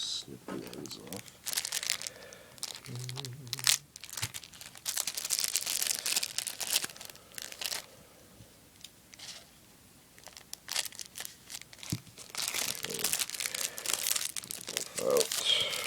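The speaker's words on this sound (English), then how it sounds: "Looks like they're just heat sealed, so we'll just snip the ends off." Heat-sealed plastic packaging around lockpicking tools, such as tweezers and pliers, is snipped open and handled, giving crisp crinkling, rustling and a few sharp snips over about sixteen seconds, close to the microphone, with someone talking at intervals.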